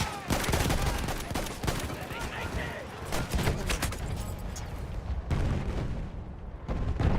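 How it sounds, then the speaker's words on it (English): Shotgun blasts in a multiplayer video game, a dense run of loud repeated shots and bursts of gunfire filling the clip, with brief pauses and a voice talking underneath. "I'm just getting hit by, I guess, shotguns?"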